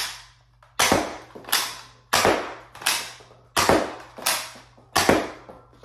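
A four-shot smart-AR toy pistol on quad fire releases seven sharp, close cap-gun-like pops at roughly even intervals, each decaying quickly into a low hum before the next.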